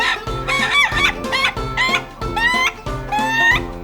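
An Indonesian laughing chicken (ayam ketawa) crows close by in a series of rapid, stuttering, laugh-like bursts, each call rising and falling in quick repeated notes with brief pauses between.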